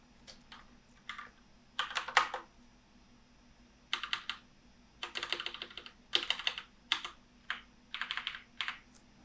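Computer keyboard keys pressed while formatting a spreadsheet chart: short bursts of rapid, crisp clicks come in irregular clusters with brief pauses between them, close and fairly quiet, with no talking.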